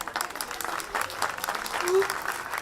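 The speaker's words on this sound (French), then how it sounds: "Applaudissez bien fort." A crowd clapping steadily at a town festival after a mayor's speech, the applause loud and sustained for the whole short stretch, with voices mixed in.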